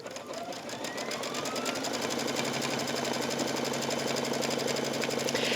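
A Brother embroidery machine stitches a fabric piece onto an in-the-hoop pillow, running a steady, rapid, continuous mechanical chatter that holds close and loud throughout with no talking.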